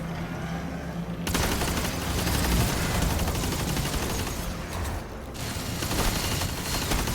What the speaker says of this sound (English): They have turrets? When the fuck do they have turrets?